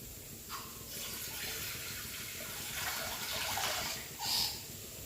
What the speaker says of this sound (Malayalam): ഇതിലേക്ക് കുറച്ച് വെള്ളം ഒഴിച്ച് നമുക്കിത് നന്നായിട്ടൊന്ന് വേവിച്ചെടുക്കാം